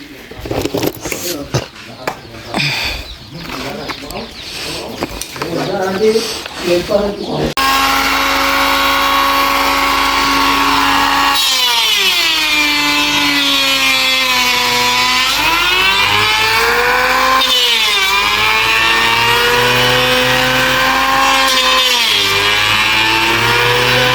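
An iron-cutting machine starts up at a window-installation job, sputtering and roaring to life, then settles into a loud, steady whine whose pitch dips and rises under load as it runs on close by.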